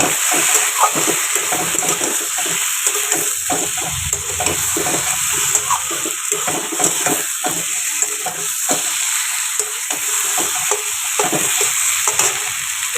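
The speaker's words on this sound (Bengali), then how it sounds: "অল্প করে একটুখানি নারকেল কোড়া আমি ছড়িয়ে দিচ্ছি দিয়ে আরেকটু ভালো করে কষাবো" Spice masala with grated coconut sautés in a pan, a loud continuous sizzle broken by frequent scraping strokes of a spatula stirring the mixture.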